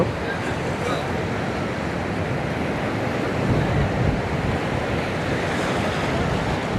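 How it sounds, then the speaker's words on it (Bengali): Sea waves crashing on the beach at Sabrang Zero Point near Cox's Bazar, a continuous broad roar that swells and surges, with wind buffeting the microphone. "আপনারা দেখেন সমুদ্রের গর্জনটা শুনে"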